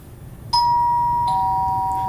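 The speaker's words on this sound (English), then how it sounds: "you found the doorbell" A two-tone ding-dong doorbell chime sounds in an interactive online learning activity. After a quiet start, one clear bright tone rings and a lower tone follows, then both ring out evenly.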